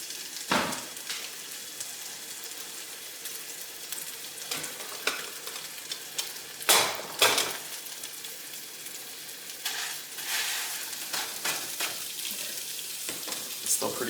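Ground beef frying in a hot pan, a steady close sizzle with occasional sharper crackles and brief stirring or scraping bursts, no talking.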